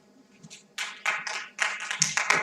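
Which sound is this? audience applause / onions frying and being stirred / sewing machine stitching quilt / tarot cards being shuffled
audience applause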